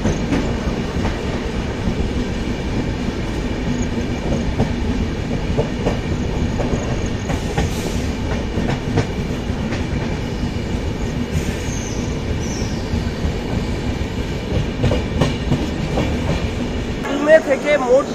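The Pune–Santragachi Humsafar Express, an Indian passenger train, rumbles steadily from inside a moving coach with a constant rolling roar, faint clicks and occasional squeals. Muffled voices can be heard at times beneath the noise.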